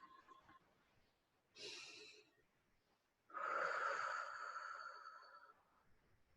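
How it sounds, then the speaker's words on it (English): Two slow, deep breaths, each a drawn-out breathy rush with a pause of near silence between them; the second is longer and louder, close and intimate in a quiet space. "Let's take our deep breaths now."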